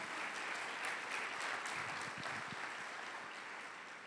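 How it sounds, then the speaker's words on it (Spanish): Congregation applause during a church sermon, a steady wash of many hands clapping that holds evenly throughout and fades slightly toward the end. "Dele un fuerte aplauso al Señor."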